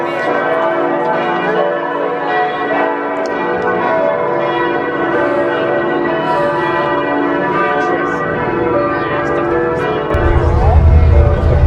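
Church bells peal steadily on Christmas Eve in Frankfurt, a dense ringing of overlapping tones that stays loud and continuous throughout, with a low rumble joining near the end.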